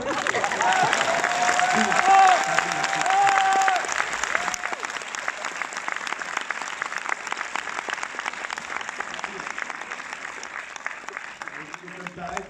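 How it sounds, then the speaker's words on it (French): A packed cinema audience at a film premiere in Orléans breaks into loud, sustained applause, a dense wall of clapping with some cheering. A voice speaks over the start, and the clapping tapers off near the end. "J'aimerais que vous fassiez un tonnerre d'applaudissements pour Monsieur José Garcia."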